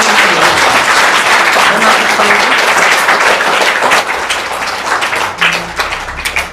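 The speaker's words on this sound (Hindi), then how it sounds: "चलिए जोरदार तालियां बजनी चाहिए भाई।" Loud, sustained applause from a game-show audience, dense clapping filling the whole stretch and easing slightly toward the end, with no voices over it.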